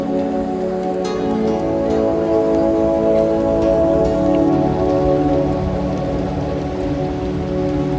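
The swollen Ganga rushes past Chandi Ghat in Haridwar during heavy monsoon rain, a steady, dense, loud roar of water that continues unbroken throughout with no voices.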